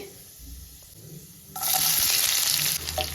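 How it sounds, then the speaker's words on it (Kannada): Onions frying in a pan for a radish paratha recipe, a faint low sizzle at first that jumps to a loud, bright hiss and crackle as stirring begins, continuing steadily to the end. "ಆನಿಯನ್ ಒಂಚೂರು ಫ್ರೈ ಆಗಲಿ"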